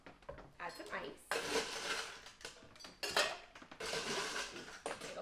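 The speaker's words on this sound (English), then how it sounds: "Add some ice." Ice cubes clatter into a cocktail shaker for a summer drink in repeated loud bursts of rattling and clinking, with brief pauses between scoops.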